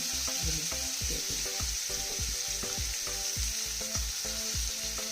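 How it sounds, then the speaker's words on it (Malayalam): A whole marinated fish sizzles steadily in a hot pan of oil for a Kerala-style fish fry, with a constant close crackle and a series of low thumps and knocks from the pan throughout, no voices. "നമുക്കിതൊന്ന് ഫ്രൈ ചെയ്യാം. കുറച്ച് നേരം ഒരു ഭാഗം ഫ്രൈ ആയിട്ടുണ്ട്."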